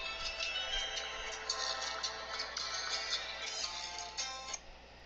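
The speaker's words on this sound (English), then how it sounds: "It's my ringtone." A phone plays a melodic ringtone, a bright, tinny repeating tune that rings on steadily throughout, alone and fairly quiet.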